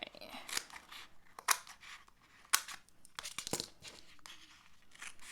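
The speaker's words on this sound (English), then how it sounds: "so I'm going to go ahead and cut that up so it's easy for me to see" Scissors snipping through planner paper, several short, crisp cuts with rustling between them, close and fairly quiet.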